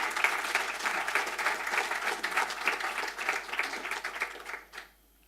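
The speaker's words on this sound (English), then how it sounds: "I think we can give the VC a round of applause" Applause for a university vice-chancellor at a formal address, a dense steady round of clapping from an audience that holds for several seconds and then quickly dies away to silence.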